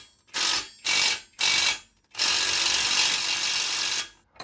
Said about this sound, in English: 21 millimeter combination wrench, box end, socket.